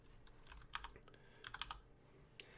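Quiet keystrokes on a computer keyboard come in short irregular bursts, several quick taps clustered together with brief pauses between, with no voices.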